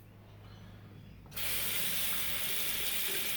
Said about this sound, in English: Rinse out the blade, the moustache and the chin area.